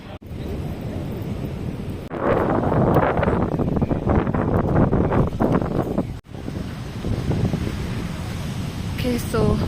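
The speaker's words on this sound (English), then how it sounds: "Wow, it's so windy." Strong wind buffets the microphone on the beach at Summersands, Mangaluru, with surf washing underneath. The gusts come in loud, rough bursts, and voices talk over the noise.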